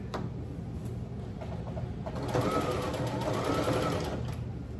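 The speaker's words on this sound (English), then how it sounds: "So I'm gonna sew this together." Sewing machine stitching pieces of a bag together, a steady close mechanical whirr running throughout and swelling louder midway, with no talking.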